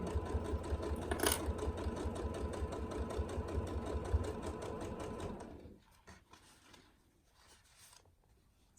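A sewing machine stitches a quilted fabric tool wrap with a fast, steady mechanical rhythm close by, running continuously for about six seconds before stopping, leaving quieter handling sounds.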